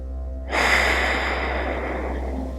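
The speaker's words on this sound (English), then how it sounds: "Plugging the right, breathing through the left." Yoga alternate-nostril breathing through the left nostril with the right one blocked, a single close, airy inhale that starts abruptly and rushes on steadily with a soft nasal hiss.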